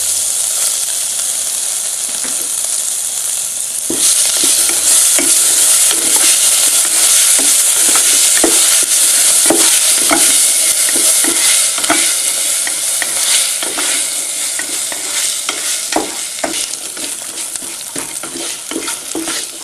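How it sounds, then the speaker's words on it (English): Spices and grated ginger sizzle loudly in a hot pan, with a continuous frying hiss that surges as the food is added and is broken by repeated scrapes and stirs, with no talking. "now you get this beautiful aroma of all the spices frying."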